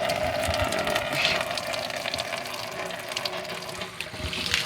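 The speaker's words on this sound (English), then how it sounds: "it's looking pretty nasty in there, so we're gonna drain this all out." Old, dirty coolant gushes and splashes steadily out of the radiator of a 2002 Toyota, a continuous nearby pouring flow with no talking.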